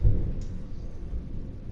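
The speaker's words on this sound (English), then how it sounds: "Yeah, we got a storm rolling in." Thunder from a storm in the Farming Simulator video game, a low continuous rumble with a soft rain-like hiss, steady and moderately loud with no talk.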